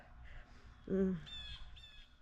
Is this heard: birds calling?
yes